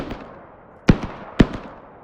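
Two sharp sniper rifle shots ring out in a Roblox game, spaced about half a second apart, each a loud close crack with a short fading tail over faint background.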